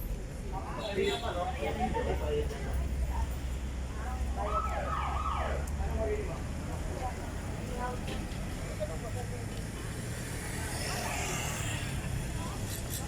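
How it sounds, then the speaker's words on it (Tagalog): Emergency siren wailing on a street beside a food stall, rising and falling in sweeps at moderate distance under a crowd's chatter and nearby talking. "May wangwang."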